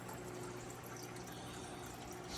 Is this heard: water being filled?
yes